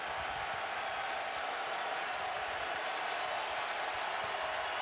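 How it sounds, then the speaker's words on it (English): Sustained roar of a large football stadium crowd of Texas fans at a college game, dense cheering and applause holding steady throughout with no break. "most of that crowd noise you hear is coming from the Texas fans"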